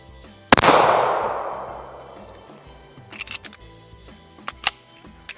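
A single sharp, loud shot from a Rock Island 1911 pistol chambered in 22 TCM rings out outdoors with a long decaying echo, followed by faint clicks and handling noises.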